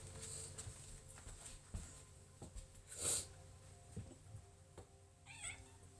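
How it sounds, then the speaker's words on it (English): Cats meow softly at a distance, with a couple of short, faint cries standing out above a quiet room hum and occasional small knocks. "Cats."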